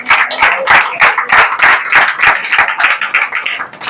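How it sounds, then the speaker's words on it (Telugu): A church congregation clapping their hands in a quick, loud, regular rhythm, sharp close claps repeating steadily throughout with no talk over them. "చప్పట్లు పెట్టండి."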